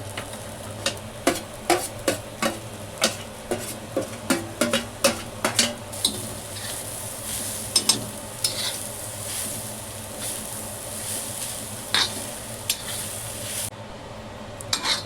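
Grated coconut roasting with onion in a little oil in a pan: a spatula scrapes and taps in a fairly regular rhythm over a steady soft sizzle, close and moderately loud, with the stirring thinning out in the second half.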